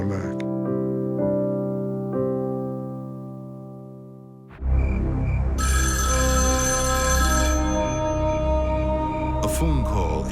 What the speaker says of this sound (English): A phone call in the dead of night rarely brings good news